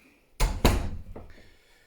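Front door of a five-bedroom cottage in Blakeney opening into the hallway: two close, sharp knocks or clunks about a quarter second apart, a softer bump after them, then quiet room tone.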